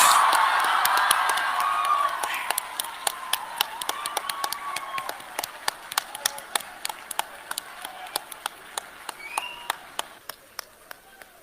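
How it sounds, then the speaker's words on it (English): Audience clapping in a large seated hall, a dense burst of applause that thins into scattered, separate claps fading over several seconds, with a few sharp single claps near the end. "the clapping should continue"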